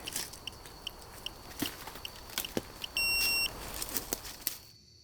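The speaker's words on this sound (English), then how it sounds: "Why did my EMF go off?" An EMF meter on a calm night by the water at Horseshoe Cove, Nova Scotia, during a paranormal investigation, gives a single clear electronic beep amid faint clicks and quiet ambience.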